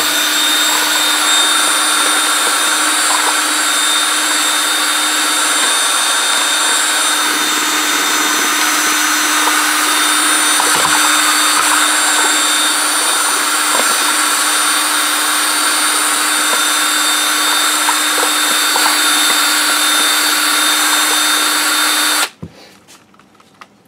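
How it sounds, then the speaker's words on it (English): A power drill mixing casting resin for pen making runs continuously at a steady high whine for over twenty seconds, loud and close, then abruptly stops. "I always use a drill to mix"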